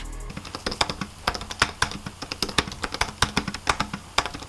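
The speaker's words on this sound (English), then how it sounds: "these are butterfly switches" Rapid, crisp clicking of a 15-inch MacBook Pro butterfly-switch keyboard being typed on, close and steady with small bursts of quicker keystrokes.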